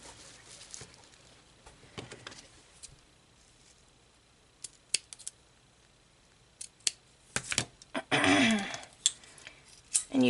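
Scissors snipping boutique bow ribbon for a double-stack bow, a few sparse close clicks early, then a denser cluster of sharp cuts and rustling near the end, with no talking.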